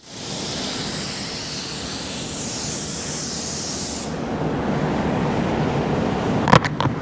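Drizzle D1 paint gun spraying paint onto a primed, sanded car bumper, a steady close hiss of air and atomized paint that shifts tone partway through and stops near the end with a few faint clicks.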